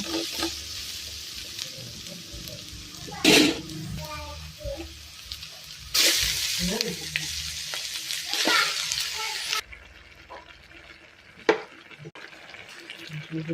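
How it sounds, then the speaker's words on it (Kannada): Onions frying and being stirred in a pan, with steady sizzling, scraping stir strokes and a few sharp clatters, while voices talk over parts of it. "ಅಂತ ನೀರುಳ್ಳಿ ಫ್ರೈ ಮನ್ಪೊಂದುಲ್ಲ"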